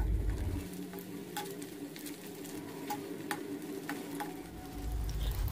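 Soya chaap fries in oil with a soft, steady sizzle as a spoon stirs it, giving sharp intermittent clicks and taps against the pan at close range, with no talking.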